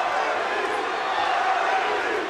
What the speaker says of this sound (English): the crowd chanting both Cabbage and Butterbean